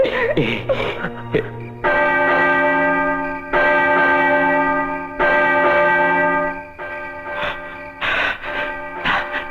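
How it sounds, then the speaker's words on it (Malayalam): A clock bell in a Malayalam film strikes twelve, slow resonant tolls ringing out one after another with long sustained decay, loud and clear, with some other film sound between strikes. "മണി 12 അടിക്കുന്നു"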